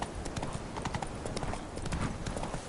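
Hooves of Roach, a horse in The Witcher video game, trotting: a rapid, steady clip-clop rhythm of hoof strikes, close and clear, with no pause.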